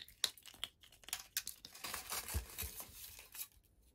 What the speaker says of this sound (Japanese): ラストはチョコエッグ開封していきましょう